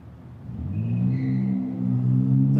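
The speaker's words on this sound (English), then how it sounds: "There's a loud white car screeching out when the white SUV gets over there." A loud white car pulls out with its engine revving, a low throaty note that climbs and then holds strongly, close by and with no talking.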